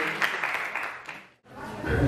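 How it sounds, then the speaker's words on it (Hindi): Applause greeting a guest speaker at a school awards ceremony, moderate clapping that briefly drops out near the middle, then swells back louder at the close. "बार जोरदार तालियों से सर का स्वागत करें"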